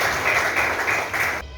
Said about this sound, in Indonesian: tepuk tangan buat Zaki.